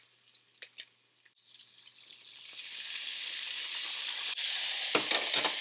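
Lemon zest and juice hitting a hot pan beside seared salmon: a few light clicks and taps, then a loud, steady bright sizzle builds and holds close up, with sputtering bursts near the end and no talk.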